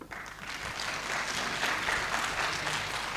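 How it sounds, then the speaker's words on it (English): Audience applause for a presenter at a business chamber cocktail networking event, a steady wash of many hands clapping that builds slightly and holds at an even level for about three seconds, with no talk over it. "Let's clap for him."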